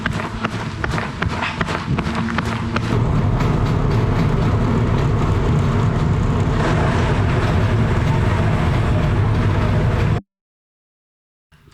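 A tram rumbles steadily along the rails, with a loud, continuous rattling drone and clacking wheels, close and unbroken until it cuts off abruptly.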